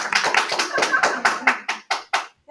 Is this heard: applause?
yes